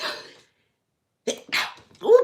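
A person sneezes indoors: a sharp breathy burst, then a pause, then a couple more quick explosive sneeze sounds close to the microphone.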